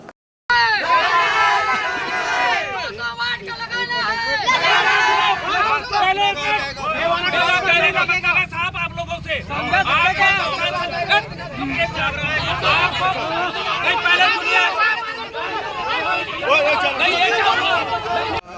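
A loud crowd of villagers blocking a road in Balaghat over a transformer demand is pushed back by police; dense shouting and clamoring voices fill the scene continuously, with agitated cries rising and falling throughout.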